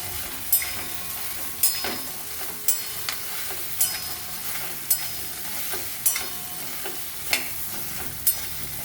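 Taro pulusu being stirred in a pan, with a sizzling background broken by regular sharp scraping knocks of the spoon, about one per second, close and clear.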